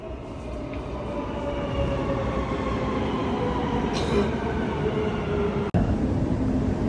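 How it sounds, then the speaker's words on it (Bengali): A metro train pulls into a Dubai station while a commuter waits on the platform, its steady loud rumble and rolling roar filling the whole stretch with a brief sharp click near the end, no voices. "মেট্রো আসতেছে।"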